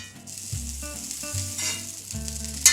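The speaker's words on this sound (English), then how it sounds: "I want to start by preheating my pan and getting some butter to melt in it." Butter melts in a preheated pan with a steady, close sizzle, over a low hum of background music, no talking.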